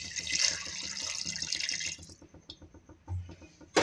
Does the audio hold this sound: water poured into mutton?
yes